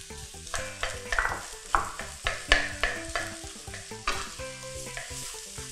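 Kale stir-fried in a wok or pan for Thai train-style fried rice, with rice about to go in: a steady sizzle broken by rhythmic spatula scrapes and clanks about twice a second, close and fairly loud, with a tonal backing throughout.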